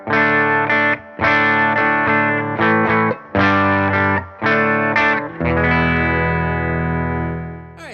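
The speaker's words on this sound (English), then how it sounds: "Silktone amp sounds like this." A McGinney Guitars Satellite electric guitar played through a Silktone amp: loud, distorted chords are struck in short choppy stabs with brief gaps, then a final chord rings out and slowly fades, close, with no talking.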